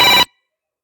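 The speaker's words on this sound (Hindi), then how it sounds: "बीच बीच में मेरे एक मित्र का फोन आ जाता है" A mobile phone ringtone cuts in briefly during a live music broadcast, a loud bright electronic tone that stops abruptly after a fraction of a second, followed by silence.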